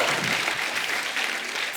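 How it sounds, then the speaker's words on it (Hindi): A short burst of loud, dense applause from a TV comedy talk show studio audience, steady throughout with no voices standing out. "जोरदार ताली हो जाए।"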